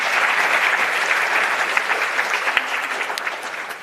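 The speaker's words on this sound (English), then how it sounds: "A round of applause for all three of the presenters," Conference audience applauds three presenters with a dense, even burst of clapping, loud at first and tapering slightly toward the end, with no talk over it.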